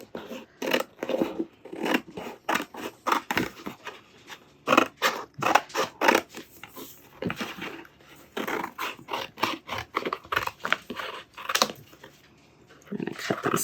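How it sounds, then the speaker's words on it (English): Scissors snip apart small iron-on vinyl stickers for a cake topper, close up, in a quick series of crisp cuts with short rustles between them. "Instead, I'm just going to cut them off."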